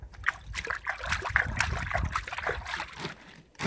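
Water trickling and splashing as it is poured into a plastic-film-lined barrel, an uneven close gurgling pour that fades out near the end.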